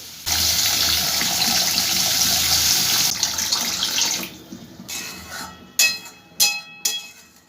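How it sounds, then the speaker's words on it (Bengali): Water pours steadily into a pan of mushroom masala gravy for about four seconds, a loud continuous splashing gush, followed by a few sharp clatters and knocks of cookware. "এই পর্যায়ে আমি পরিমাণ মতো জল দিয়ে দেবো"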